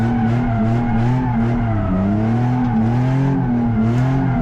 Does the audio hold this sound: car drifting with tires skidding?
yes